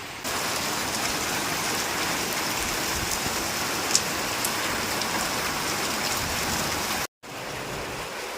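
Heavy rain falls in a dense, continuous hiss of drops on surfaces, loud and steady, with one brief sharp tap and a momentary cut near the end.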